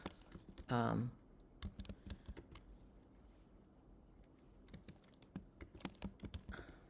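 Keys on a computer keyboard are typed in scattered bursts of sharp, close clicks, while a brief voice is heard near the start.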